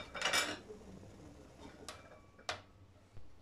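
A lid clinks down onto a pot of Tunisian mhames simmering with vegetables, a few sharp metallic knocks after a burst of clattering cookware, near and fairly quiet, with no talk.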